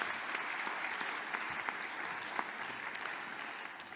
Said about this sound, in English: a big round of applause for all of our winners and all of our finalists this evening